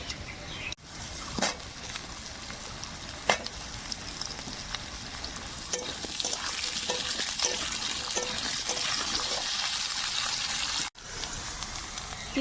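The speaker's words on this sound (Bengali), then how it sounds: "এই দেখুন আলুগুলো খুব সুন্দর করে ভেজে নিয়েছি" Potatoes frying with garlic in a pan, a dense close sizzle of hot oil running throughout, broken by sharp scraping taps as a spatula stirs, with a brief dip near the start and end.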